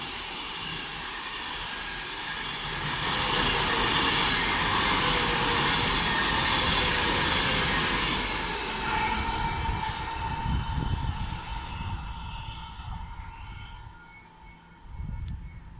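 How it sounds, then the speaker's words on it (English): A London Euston service train rumbles steadily into Watford Junction station, a broad roar of engine and wheel noise swelling then easing, with rattling and clunks as it slows. "now pulling into the station is the service to London Euston"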